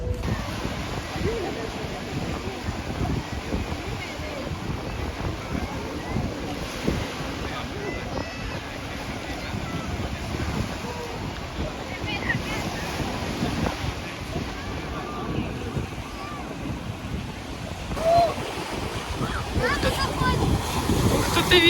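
Strong wind buffets the microphone in a steady roar by the sea, with waves rumbling underneath and faint voices at times.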